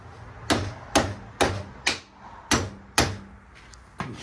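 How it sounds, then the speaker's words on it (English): A hammer strikes a steel piece in a metal workshop, seven sharp, loud, close blows landing at a fairly even rhythm, each followed by a short ring. "Can't even swing a hammer good anymore"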